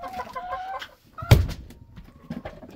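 A silkie hen clucking close by, a few soft stuttering clucks followed by a louder squawk, then quieter chuckling calls, with no talk.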